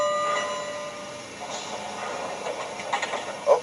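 An MTH HO scale 4-8-4 GS-4 model steam locomotive, numbered 4449 in Daylight livery, runs past with soft hissing, clicking wheel noise and faint whistle tones, building to a brief louder burst at the end.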